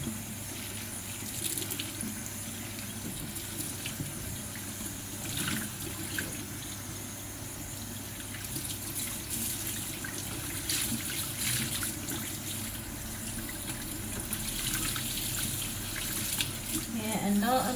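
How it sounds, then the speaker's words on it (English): Water running steadily from a bathroom sink tap while gel is rinsed out of 4C hair, a continuous splashing trickle with faint handling noises throughout, close and fairly quiet. "As I rinse, you can literally see the residue from the gel going right down in the sink."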